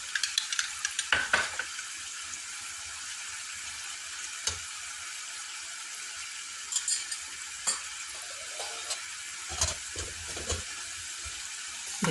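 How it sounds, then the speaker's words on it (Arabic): Potatoes deep-fry in a generous amount of oil, giving a steady bright hiss and crackle with scattered louder pops and occasional clinks of utensils. "البطاطا راهي ديما كي تتقلي لازم في كميه غزيره من الزيت، لازم تعوم في الزيت"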